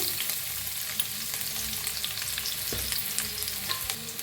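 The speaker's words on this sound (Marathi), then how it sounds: "आता आपण ह्याला फ्राय करूया तर तेल गरम झालं आहे त्याच्यात टाकूया अद्रक हिरवी मिरची" Ginger and green chili fry in hot oil with a loud, continuous crackling sizzle and occasional stirring, and no voices.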